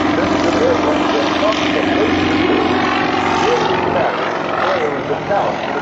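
A Sukhoi SU-31 aerobatic airplane flies at the 2006 Willow Grove air show, its propeller engine droning loudly and steadily, rising and falling slightly in pitch as it maneuvers, with an announcer's voice over it.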